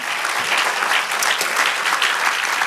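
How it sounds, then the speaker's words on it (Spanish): Steady, lively applause from a church congregation, many hands clapping together at an even loudness for the whole stretch, with no talk on top. "Dale aplauso al Señor."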